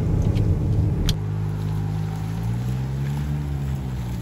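A Lexus NX SUV drives along with a steady low engine and road drone, loud and continuous, after a brief louder rumble at the start.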